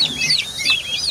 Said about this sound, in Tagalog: Yan, ito yung pabo namin mga kajong.